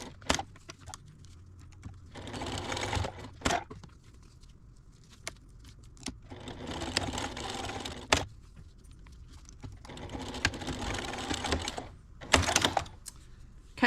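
A home sewing machine stitches down the turned-under ends of a fabric strap on a toy car storage case, running in several whirring bursts of a few seconds each. Short pauses and clicks fall between the bursts, close by and moderately loud.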